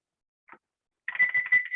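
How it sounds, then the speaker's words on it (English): A kitchen timer beeps in a home kitchen, giving one short chirp followed by a rapid run of loud, close electronic beeps lasting under a second. "I'm gonna set the timer."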